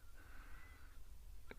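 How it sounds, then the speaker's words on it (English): A faint, thin meow-like call of a Cape Longclaw rises and holds briefly, followed by a short sharp note, over low background rumble. "Cape Longclaw bird calling with that meowing"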